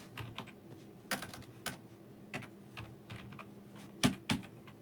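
Keys clicking on a computer keyboard as an Ollama command is entered in a command prompt, an irregular run of separate taps with two sharper strokes near the end, close and quiet.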